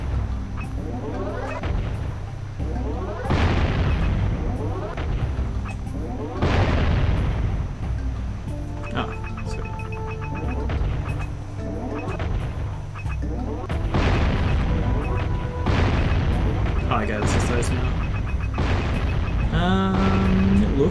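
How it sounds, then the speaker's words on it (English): Repeated booming cannon shots and explosions in the game Jak and Daxter: The Precursor Legacy, each a deep thump with a decaying tail, layered over game music and effects. "It looks like that's everything that I can shoot with me cannon."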